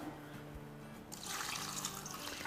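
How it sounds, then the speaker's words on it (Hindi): Water being poured into a pot of paya (trotters) for cooking, a steady splashing rush that starts suddenly and continues loudly and close. "अब इसमें हम डाल देंगे पानी।"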